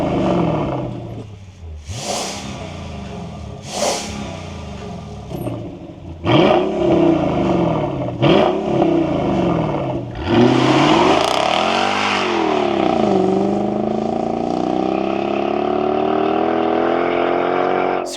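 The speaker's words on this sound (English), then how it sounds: "I also modified the exhaust with a Hot Rod Scott's valved exhaust." A Mercedes E55 AMG supercharged V8 fitted with a Hot Rod Scott's valved exhaust blips through several sharp revs, then climbs into a long, loud sustained rev that sweeps up and settles, close and alone without talk.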